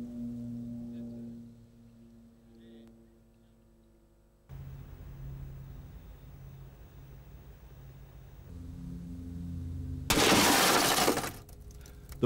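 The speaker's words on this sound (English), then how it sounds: "The first round fired at the car door shatters the window wound down inside." A gunshot strikes a car door and shatters the wound-down window glass inside, a single loud burst of breaking glass near the end after a long low drone and hum.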